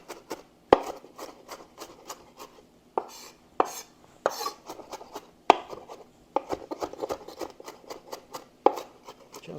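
Knife chopping fresh parsley on a cutting board for quinoa tabbouleh, a quick irregular run of crisp close taps with short pauses between bursts.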